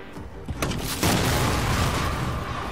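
In Watch Dogs, a grenade launcher shot at a car explodes about a second in, a loud broadband boom followed by a sustained rumbling roar, preceded by a few quick mechanical clicks.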